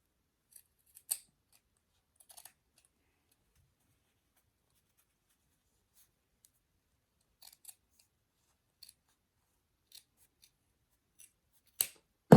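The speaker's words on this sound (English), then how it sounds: "I have these huge scissors, and they're perfect for cutting extra" Huge scissors snip stuffed-toy fabric in a quiet room, a few sparse, short, crisp cuts spaced seconds apart, faint and close, with a louder snip at the end.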